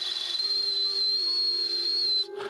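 A person whistles a long, steady high note imitating a boiling tea kettle, held for about two seconds before cutting off, with faint breathy noise after.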